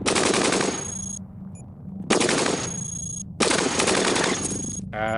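Video game gunfire in Cogmind: three long, loud bursts of rapid machine-gun fire separated by short quieter gaps, with no speech over them.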